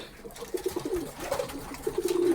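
Pigeons in a loft cooing close by, repeated soft throaty coos overlapping over a faint background of rustling and movement.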